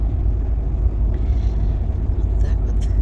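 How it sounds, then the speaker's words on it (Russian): A truck drives along a ring road near Jelgava, Latvia, heard as a loud, steady low rumble of engine and tyres, as if from inside the cab, with faint higher noises near the end. "Потому что мы едем на грузовике."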